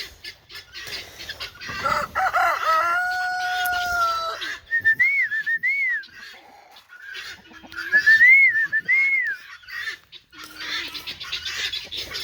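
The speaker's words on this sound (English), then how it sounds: "This is gonna be nothing but roosters." Several roosters crow one after another, their calls overlapping with clucking fowl nearby, some close and loud, others fainter.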